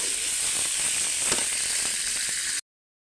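Water lily stems added to hot oil crackle in a dense, even hiss that holds steady for over two seconds, then stops abruptly.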